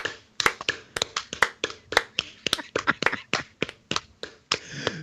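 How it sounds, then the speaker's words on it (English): A slow, spaced clap from hands coming together at an irregular, unhurried pace, each sharp smack standing out against near-silence. "you start a slow clap"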